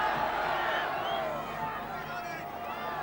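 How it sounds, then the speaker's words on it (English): Football stadium crowd getting behind York City, a broad roar and babble of many voices rising and falling, with a commentator talking over it throughout. "Big crowd getting behind York City now."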